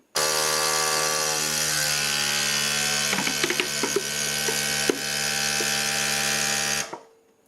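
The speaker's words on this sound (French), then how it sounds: "j'appuie sur aspiration externe" A CalmDo vacuum sealer runs external suction through a hose attached to a plastic bottle, giving a steady droning motor hum with a few small clicks in the middle before it cuts off near the end.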